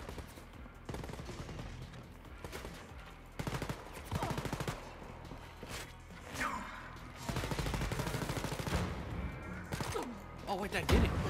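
In the video game Wolfenstein: Youngblood, rapid bursts of automatic gunfire mix with loud explosion blasts in dense, chaotic combat, and a player talks over the action.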